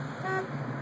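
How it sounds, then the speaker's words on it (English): A car alarm on an LSC with a 5.0L engine, parked outdoors, gives a single short horn-like tone, moderately faint over low background hum. "alarm's going off"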